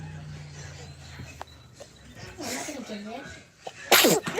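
A single sharp sneeze bursts out near the end, following quieter sniffles and soft voices nearby.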